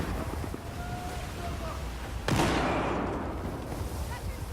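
A grenade goes off in the Battlefield 4 video game, heard as one deep blast midway through that then rolls away under the rumble and wind of the battlefield.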